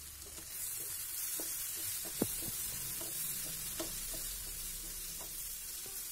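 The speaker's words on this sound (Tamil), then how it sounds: "இப்போ இந்த மசாலா எல்லாத்தையும் நல்லா மிக்ஸ் பண்ணிக்கோங்க" Masala being stirred into onion and tomato in a pan for egg gravy, a steady soft sizzle with scattered scraping clicks of the spoon, close and continuous with no talk.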